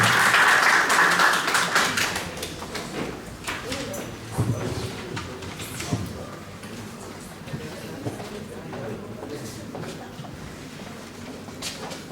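An audience at a national thesis-presentation competition final applauds as a presenter is called up, loud clapping at first that thins out over about twelve seconds into scattered claps, footsteps and murmurs.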